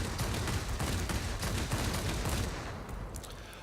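Rapid, dense bursts of 30 mm cannon fire from a Ki-84 in World of Warplanes, loud and continuous with engine drone underneath, easing off near the end.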